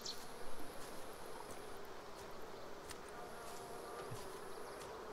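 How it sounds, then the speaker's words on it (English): Swarm of wasps buzzing around their nests, a steady, moderately close drone of many insects with small fluctuations, heard alone without talk. "What's with the wasps? What's with all the wasp nests?"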